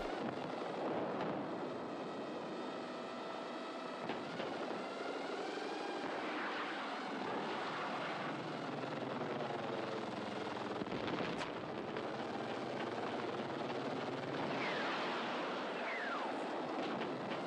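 Helicopter in the Battlefield 6 game, a steady loud engine roar with rotor drone and whining tones, continuous throughout with brief sharp bangs mixed in, no voices.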